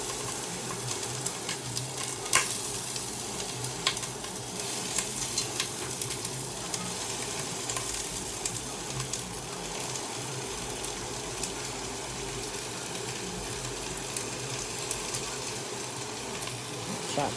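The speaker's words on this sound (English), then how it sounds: "So now it's smoking. You hear that sizzle?" Organic purple cabbage sizzling and frying in a smoking hot pan, a steady close crackling hiss with occasional stirring clicks, continuous throughout with no talking.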